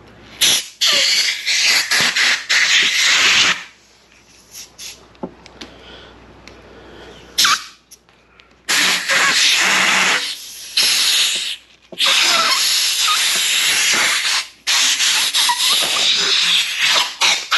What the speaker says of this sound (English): We're going to get the air in there and then pop it off.